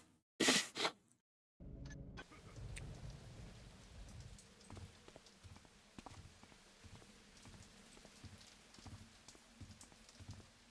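Ambient rain in the video game Thief Gold: a steady hiss of rainfall with scattered drops and soft patters that runs after a couple of brief louder bursts at the start, moderately quiet with no talking.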